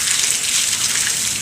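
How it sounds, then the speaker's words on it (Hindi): Steady rain falls outside a home, a dense, even hiss of drops on surfaces that holds at constant loudness without pause and with no voices. "बारिश को हम इंजॉय कर रहे हैं।"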